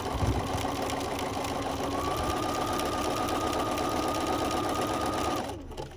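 Bernina sewing machine stitching a buttonhole bead, a fast steady mechanical whir and rapid needle chatter running continuously close by, then slowing and stopping at the end.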